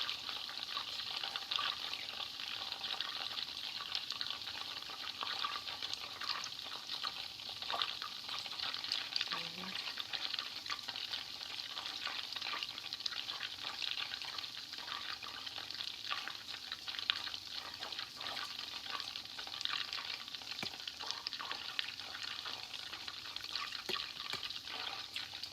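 Butter simmers in a pan while ghee is made, giving a steady, soft, fine crackling sizzle that runs without a break at low volume, with no talk heard.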